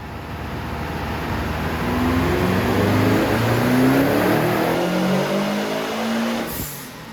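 A Subaru Impreza GC8 running 16 psi of boost revs hard through a steady dyno pull, its engine note climbing and sustained loudly for several seconds before easing off, with no voices.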